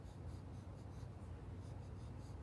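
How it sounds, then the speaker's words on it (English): A Sharpie marker scratches steadily across paper in continuous strokes, close and quiet with no talking, while a polar bear in a sweater is traced. "then I can probably just start to trace it in Sharpie"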